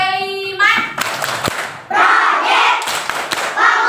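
A fourth-grade class at an Indonesian Islamic primary school clapping the "Tepuk P5" chant rhythm together, loud and close, with bursts of hand claps and thumps mixed with children's voices after a brief tone at the start.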